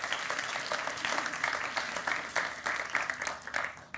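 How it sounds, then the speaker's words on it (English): An audience at a FameLab International 2019 semi-final applauds the judges, a moderately distant, even wash of many hands clapping that carries on for the whole stretch. "can we give the judges a kind of warm glow of applause, please"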